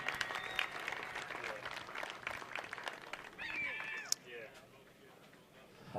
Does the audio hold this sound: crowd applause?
yes